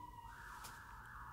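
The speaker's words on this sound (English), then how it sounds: "by the way, sirens, not related to me." Police car siren passing outside, faint and distant, a rising wail that swells and holds steady behind quiet background noise.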